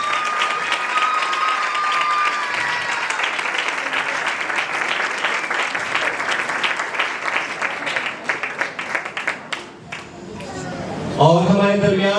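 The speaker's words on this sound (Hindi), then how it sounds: "सबकी भरपूर तालियां का" A congregation at a Pakistani Christian worship night claps loudly and continuously, the applause thinning toward the end before a voice and music-like tones come in.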